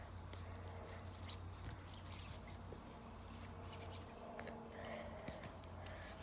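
Trading cards being shuffled by hand, a soft, quiet, continuous rustle and light flicking of card stock.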